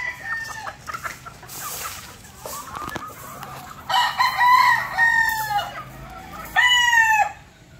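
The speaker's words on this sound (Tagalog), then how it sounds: "Itong mga pullets natin. Mga pure SPR." Super Brown Red pullets, pure-bred young chickens for sale, cluck and squawk close by in a busy run, with a few louder rising calls standing out near the end and no talking.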